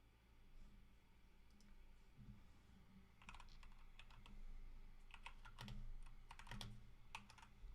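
Rapid typing on a computer keyboard at a home gaming session, irregular bursts of close, crisp key clicks over a faint steady hum, growing denser and louder toward the end.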